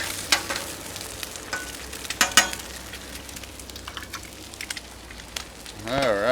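Pastrami hash and eggs sizzle steadily on a Cuisinart 360XL flat top griddle, a continuous frying hiss with scattered sharper crackles and scraping, and a brief rise of noise near the end.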